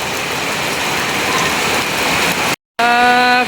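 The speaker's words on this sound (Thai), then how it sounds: "ฝนมาแบบนี้ ทั้งลมทั้งฝน" Heavy rain and gusting wind pour down in a steady, dense roar that fills the space, broken by a short dropout before the downpour resumes with a faint tonal whine over it.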